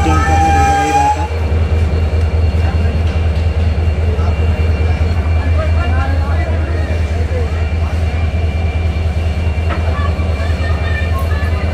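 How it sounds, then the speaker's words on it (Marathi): Diesel railway locomotive idling steadily at a station during a line trial, its deep continuous rumble loud and close throughout, with voices speaking over it. "हे समोरचे इंजन इकडं पाठीमागं आणण्यात आलेलं आहे बघा"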